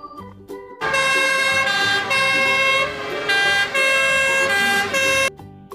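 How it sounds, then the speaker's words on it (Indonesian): A toy fire truck plays a loud electronic siren in short bursts, a bright warbling tone with a few brief pauses between blasts, heard close with no talking. "Kalau yang ini namanya mobil pemadam kebakaran atau damkar, digunakan untuk memadamkan api kalau ada kebakaran"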